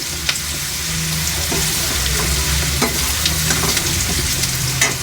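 Goat tripe fries in a pan with turmeric, a steady loud sizzle broken by scraping clicks of a spoon stirring the pieces.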